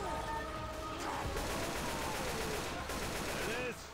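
Rapid bursts of automatic gunfire from the zombie shooter game Left 4 Dead 2 rattle steadily through the whole span, dense and continuous with no pauses.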